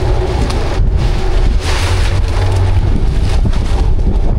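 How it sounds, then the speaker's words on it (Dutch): Strong wind buffets a microphone aboard an inland cargo barge, a loud continuous roaring rumble with gusty swells and no voices. "Beetje wind."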